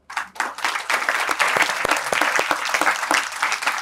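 An audience of classical music students bursting into close, dense applause, many hands clapping steadily for several seconds with no talk over it.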